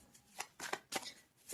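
Tarot cards riffled and dropping onto a table in a few quick papery bursts, each one a short crisp flutter with pauses between, close and fairly quiet.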